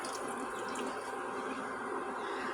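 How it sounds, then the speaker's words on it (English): Water pours into a cooking pot on a stovetop, a steady close splashing rush that holds constant for the whole stretch without pause or talk. "I'm going to pour in my water."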